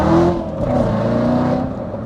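A Chevrolet Corvette C7 Z06 with a manual gearbox accelerates hard, its engine roaring steadily up close while the tires briefly spin.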